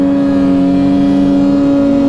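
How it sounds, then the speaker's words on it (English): A Polaris snowmobile with a turbocharged engine holds a loud, steady high-rev drone with strong sustained tones throughout, heard up close. "Forgot how loud the boost turbo is."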